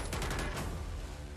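Rapid bursts of gunfire fill a video game trailer, several quick shots crackling together in the first half-second before fading into a loud, noisy wash.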